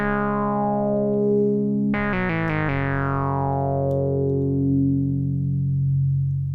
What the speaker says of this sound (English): So here I've patched a fairly straightforward 2 oscillators through a resonant low-pass filter and then into 1 channel of Alpha Plus